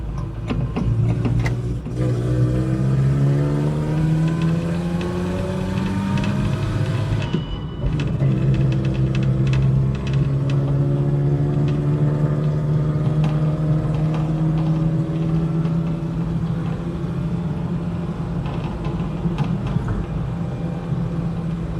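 A Datsun 120Y, back on public roads after decades off them, drives along with a steady engine drone heard from inside the cabin. It revs up, briefly drops away during a gear change, then pulls again with a constant hum and no talk.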